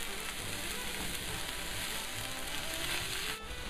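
Broccoli florets and arame sautéing in a pan with a little water or broth, giving a steady, close sizzle and crackle that runs unbroken and then dips briefly near the end.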